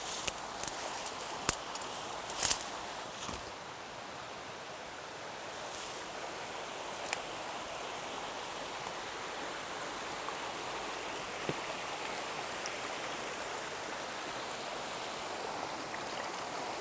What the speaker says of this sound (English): I hear water running out there.